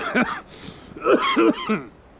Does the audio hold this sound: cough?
yes